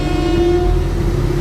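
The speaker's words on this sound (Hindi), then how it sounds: "पीछे से ट्रक वाला हॉर्न पे हॉर्न दिए जा रहा है।" A loud, sustained truck horn blares continuously at close range from behind, a steady low tone without breaks.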